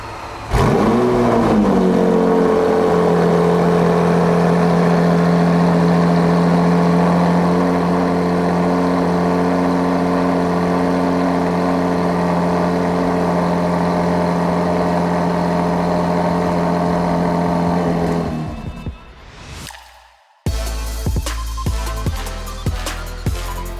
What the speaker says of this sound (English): So let's get a cold start on this.